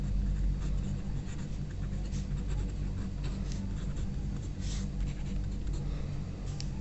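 A pen scratches steadily on paper, writing out an accounting rule for a capital account close to the microphone, with a low continuous hum beneath.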